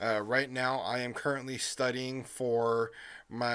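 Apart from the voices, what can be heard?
No everyday noise stands out behind the speech.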